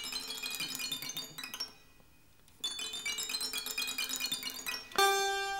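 Short santur strings struck beyond the pegs give bright, clinking, irregular metallic tinkles in two busy bursts with a brief near-silent pause, then a fuller ringing struck note at the end.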